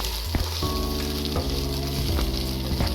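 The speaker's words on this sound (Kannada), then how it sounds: "ಶುಂಠಿ ಸ್ಮೆಲ್ ಹೋಗೋ ತನಕ ಅದನ್ನು ನಾವು ಫ್ರೈ ಮಾಡ್ತಾ ಇರಬೇಕು" Ginger paste fries in a pan for a garlic chicken dish, giving a loud, steady close sizzle with a few sharper spatters and stirring knocks throughout.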